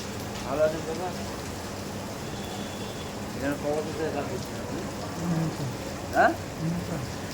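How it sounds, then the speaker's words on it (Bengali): Rain falls steadily near a train station, making a soft continuous patter beneath nearby voices, with occasional louder drips and splashes. "বৃষ্টি অনেকক্ষণ ধরে হচ্ছে"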